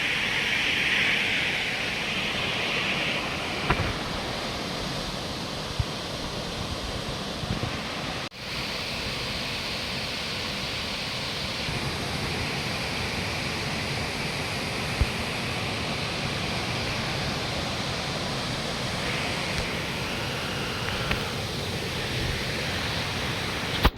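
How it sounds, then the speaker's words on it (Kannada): A steady, full roar of falling water rushes continuously without pause, dense and close, heard from near Burude Falls in Uttara Kannada, Karnataka. "ಹಾಲು ಹಾಲು ಬಿದ್ದಂಗೆ ಬೀಳ್ತೈತೆ ನೀರು"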